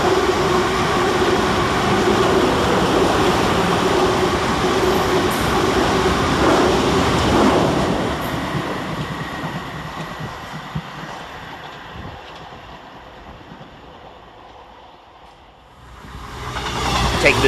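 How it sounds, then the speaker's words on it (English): Two South Western Railway Class 444 electric units race through Christchurch station on the Weymouth–Bournemouth–London Waterloo line, a loud sustained roar and rush that fades after about eight seconds before another swell of noise builds at the end, with some wind buffeting. "Passing fast through the station for South Western Railway is 444011 and 444007"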